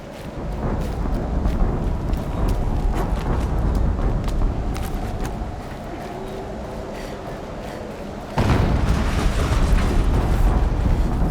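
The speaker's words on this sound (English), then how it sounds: "An explosion." An explosion in the video game Horizon Zero Dawn: a loud, sustained rumbling boom with crackling debris, then a sudden fresh blast near the end.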